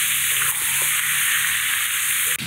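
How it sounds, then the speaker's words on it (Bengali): Chicken meat sizzles loudly in hot oil in a pan, a bright continuous crackle with soft scraping as the pieces are stirred, no voices over it. "নেড়ে চেড়ে কিছু সময় ভাজা ভাজা করে নেব"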